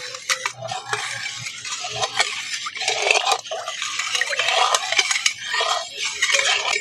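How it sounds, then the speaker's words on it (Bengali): A utensil stirs a milk mixture with whole sugar in a metal pot, producing continuous close scraping and clinking against the pot with soft liquid swishing and no talk. "আমি গোটা চিনি দিয়েছি বলে একটু ভালো করে নাড়াচাড়া করে মিশিয়ে নিচ্ছি"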